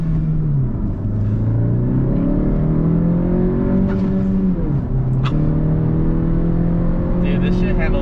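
A 2020 tenth-generation Honda Civic Si fitted with a PRL Cobra cold air intake accelerates hard, its engine note climbing loud and close, with a brief voice over the roar.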